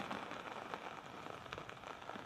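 Steady rain falls on a surface, a dense continuous patter with scattered louder drops, alone and without speech.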